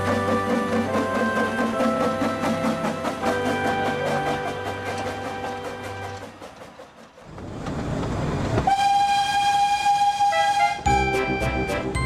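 Skarloey, a small narrow-gauge steam engine, runs along the line with steady rolling rhythm, then gives a short whistle toot near the end, loud and close over a musical backdrop.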